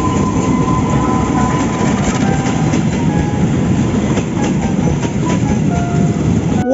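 A toy CC203 locomotive train runs along its track with a steady, continuous clattering rumble and faint clickety-clack, close and fairly loud throughout, with no talking.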